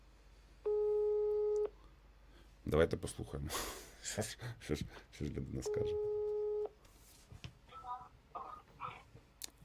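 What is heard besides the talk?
telephone call ringing tone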